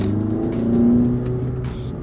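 A Mazda 3 Skyactiv naturally aspirated engine fitted with an air intake pod runs up in revs, a close, steady throaty drone that swells mid-way and settles back, with no talk over it.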